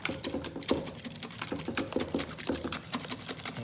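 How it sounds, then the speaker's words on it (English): Hollandaise sauce being whisked with cayenne and kosher salt, a quick steady run of metallic whisk clicks and taps against the bowl, close and fairly loud with no talking. "Whisk that all up into there."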